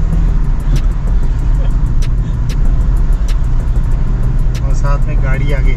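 Car driving at full speed at night through hills, a loud continuous engine and road drone from inside the cabin with repeated sharp clicks, and a person talking over it.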